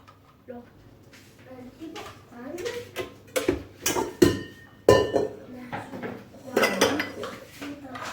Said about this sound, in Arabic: راح نجيب لو بول تاعي